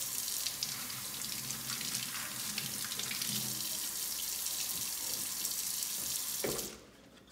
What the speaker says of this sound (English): what I like to do too is I like to rinse my onions off.